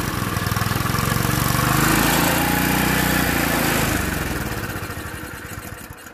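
An old, worn bumper kart engine with a bent carburetor runs steadily at close range, a loud, continuous buzzing drone that swells slightly early on and then eases off toward the end, with a noisy wheel bearing adding to it.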